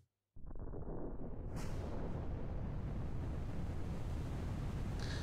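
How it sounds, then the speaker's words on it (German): An explosion in Tomb Raider Remastered erupts after a brief silence and becomes a loud, sustained roaring rumble that continues steadily with no speech. "Oh, da explodiert was."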